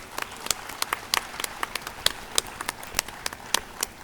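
Audience at a Montessori school annual day claps in a steady, scattered patter of sharp hand claps, moderately close, with no talk over it.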